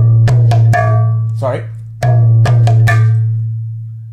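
Mridanga drum strokes in the Dha Dhene Nak pattern, sharp resonant hits in two groups of three with a sustained low ringing drone beneath, and a brief spoken word between the groups.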